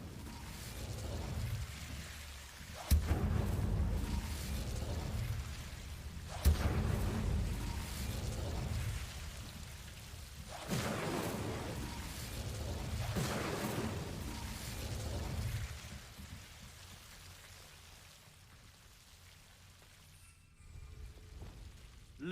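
The Incendio fire spell is cast in Hogwarts Legacy, making several whooshing, bursting blasts of flame a few seconds apart over a steady rumble of game ambience.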